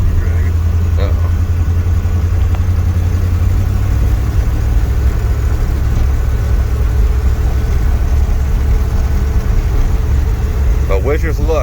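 1958 Chevrolet Biscayne driven home after years of sitting, its engine a steady low rumble and road drone from inside the cabin, loud and constant, with people talking in the car.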